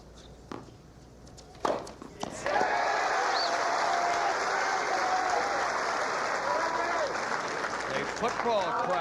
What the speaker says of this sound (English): Football crowd with the cheer following the overhead smash